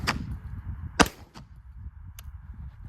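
Unsuppressed shots from a North Reach Manufacturing rifle crack out at an outdoor range, several sharp reports spaced about a second apart, fairly distant and faint, with the loudest near the middle.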